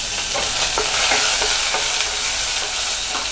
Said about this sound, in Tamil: இதுக்கு ஒரே ஒரு வரமிளகாய், பச்சை மிளகாய், அதே மாதிரி கருவேப்பிலை, கொத்தமல்லி இதையும் நம்ம ஆட் பண்ணிக்கலாம்.